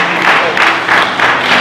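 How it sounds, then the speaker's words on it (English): Gathered guests at a 50th birthday celebration clap in steady rhythmic unison, with bursts of applause pulsing about every third of a second, close and fairly loud, with faint voices mixed in. "Let's clap for Jesus."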